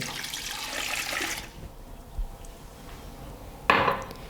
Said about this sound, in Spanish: A continuación ponemos un poco de agua que tenemos preparada.